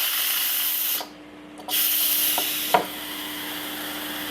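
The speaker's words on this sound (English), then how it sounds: "So, first thing to note is steam comes out of here." Instant Pot pressure release venting steam, a loud continuous hiss that cuts out for about half a second, then resumes with a few light knocks and a sharp click.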